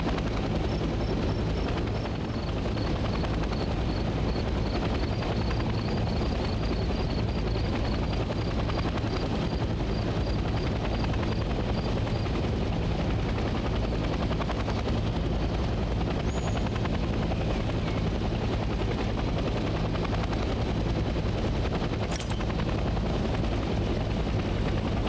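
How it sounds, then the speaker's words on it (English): Helicopter engine and rotor noise from the video game Hell Let Loose, a steady, loud, dense drone with a constant low rhythmic thrum running unbroken throughout, with no one talking. "Let's land the helicopter on a helipad and turn the engine off."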